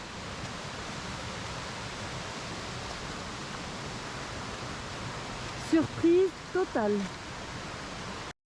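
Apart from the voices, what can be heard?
river flowing in the Fataua valley, Tahiti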